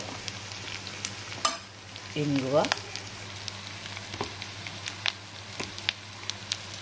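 Green chilli paste and a pinch of asafoetida fry in a pan in a steady low sizzle, broken by a few sharp clicks and a brief scraping stir, with no voices.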